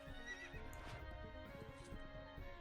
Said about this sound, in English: Here, I'll showcase the horses.